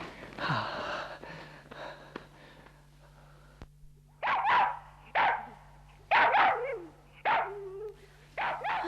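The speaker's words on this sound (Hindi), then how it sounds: "ये बाहर कुत्ता क्यों भौंक रहा है?" A dog barks outside at night, heard as several loud separate barks in short bursts, after some breathy gasping and faint sounds at the start, with no talking.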